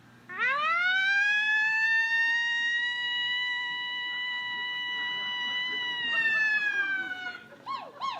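A voice imitates a wailing police siren, a long sustained rising and falling tone held loud and steady for several seconds, performed outdoors by a performer claiming a 125 dB voice.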